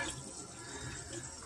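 Water runs steadily from a kitchen sink faucet during a garbage disposal installation, a soft, even splashing rush with no voices.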